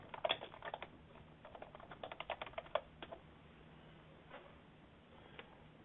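Computer keyboard typing close by in quiet, a quick burst of key clicks followed by a second flurry, then a few scattered single taps as it trails off.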